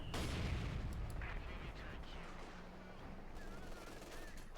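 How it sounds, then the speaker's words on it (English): Light machine gun fire in Company of Heroes 2 strategy game, a dense crackle of distant battlefield shots and rattling bursts, with a commentator's voice faintly underneath. "the machine gun that has been cut apart by light machine gun fire there"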